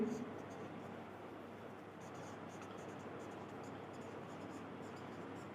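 Marker or chalk writing on a classroom board, a steady faint scratching that runs on without a break, heard alone with no voice over it.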